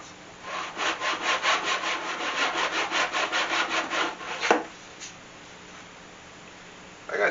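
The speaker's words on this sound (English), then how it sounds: "I'm going to cut a little bit of the wood on the bottom side of the kerf away." Wood being cut away by hand on the underside of a kerf in a weather-damaged, 40-year-old oak slab table: about a dozen close, rhythmic rasping strokes, then a single knock and near silence.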